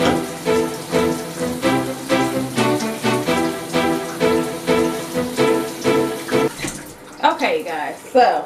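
Steady running water splashes continuously for several seconds, with a brief shift in texture near the end as the flow is disturbed.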